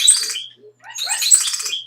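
Small birds chirp and tweet in bright, high bursts, one cluster of calls followed by a short pause and a denser second flurry, fairly close and with no voices.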